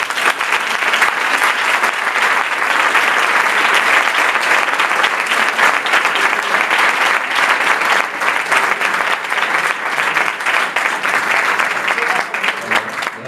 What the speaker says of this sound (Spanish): aquí le damos un aplauso a José